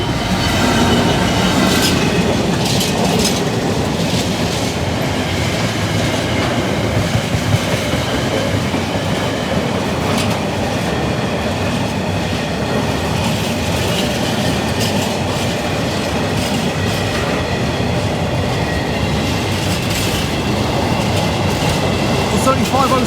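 A Maritime intermodal freight train rolls past a level crossing at Saxilby, a loud continuous rumble with rhythmic wheel clatter over rail joints and occasional squeals throughout.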